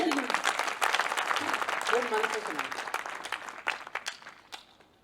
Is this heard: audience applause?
yes